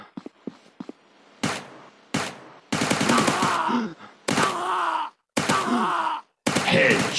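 Gunfire bursts in a mobile commando shooter game, loud broadband blasts arriving in several separate clusters, each a few tenths of a second to about a second long, with short quiet gaps between them.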